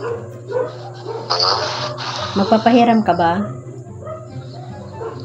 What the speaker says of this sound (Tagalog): Ay, may mga aso.